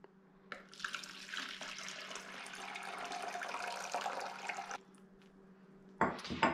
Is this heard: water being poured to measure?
yes